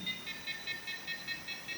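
A ghost-hunting detection device sounds a rapid repeating electronic alarm, steady pulsed beeps roughly every fifth of a second, fairly quiet and alone in an 18th-century manor hotel.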